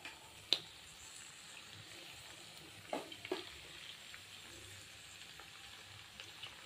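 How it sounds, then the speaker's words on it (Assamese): Chopped lai xaak mustard greens being stirred into chicken cooking in a pan, with a faint sizzle and a few soft scraping clicks of the spoon, quiet and close with no talking. "শাকখিনি দি পেলাই ভালকে লৰাই দিলো"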